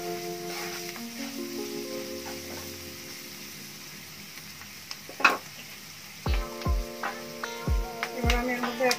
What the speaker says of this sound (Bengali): পেঁয়াজটা তো বেশি ভাজবো না